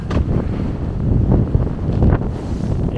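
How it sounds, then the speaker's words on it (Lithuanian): Strong wind buffets the microphone on a sailing boat in the Norwegian Sea near Svalbard, a loud, gusting roar with low rumbling and surging pulses, without voices. "Nu, stiprus vėjas."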